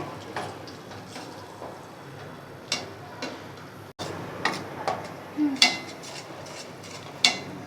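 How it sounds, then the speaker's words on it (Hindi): Gram flour being roasted in ghee in a pan: a spoon scrapes and clinks against the metal in scattered, uneven strokes, close by over a low background hiss. "हम डालेंगे इसके अंदर और हम इसको हल्के हाथ से भूनेंगे।"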